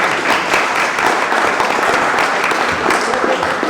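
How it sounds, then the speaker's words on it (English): A live audience bursts into a short, loud round of applause for a guest called to the front, dense clapping from many hands lasting a few seconds. "Let's give him a round of applause, guys."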